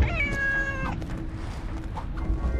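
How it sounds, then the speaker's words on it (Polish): Hidden cat in the LEGO Marvel Super Heroes 2 video game, one clear drawn-out meow near the start over soft game background noise. "Tutaj niedaleko, gdzie mamy billboard, to będziemy też mieli kotka ukrytego."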